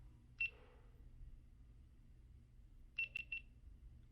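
A GoPro camera beeps quietly nearby: one short electronic tone, a pause, then a quick triple burst of beeps over a faint background hum.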